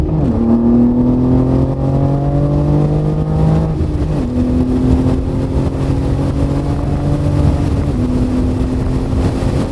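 BMW G80 M3 fitted with an AWE Switchpath exhaust and catted downpipes accelerating hard in first gear, a loud close exhaust roar rising in pitch through repeated pulls, with sharp drops between them.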